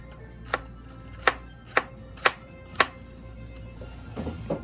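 Knife cutting bitter lemon (carille) into very thin slices on a board, five crisp evenly spaced chops with a few softer cuts at the end, close and clear against a low background hum.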